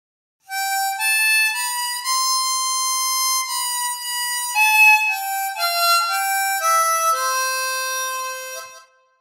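The melody of Oh Danny Boy played on a harmonica, a slow run of sustained reedy notes stepping up and down in pitch for about eight seconds, clear and close with no voices.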